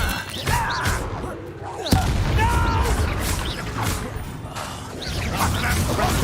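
The Expelliarmus spell is cast in the video game Hogwarts Legacy, a sharp magical crack and boom amid a dense din of combat effects, loud and close, with a voice speaking over it.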